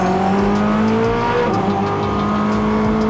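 A Koenigsegg supercar's engine revs hard on a race track, a loud, continuous, near roar with rising harmonic tones as it accelerates, steady throughout with no talk.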